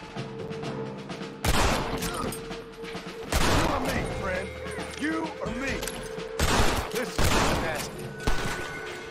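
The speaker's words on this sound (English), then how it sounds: "Da ist die Gatling." A Gatling gun fires in a Red Dead Redemption gameplay scene, loud rapid bursts of gunfire coming in several separate volleys over game ambience, with someone talking in between.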